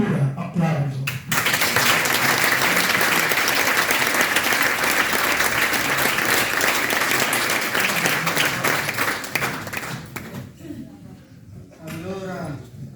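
An audience bursts into sustained, loud applause that fills the room for about nine seconds before thinning out near the end, with voices heard faintly around it.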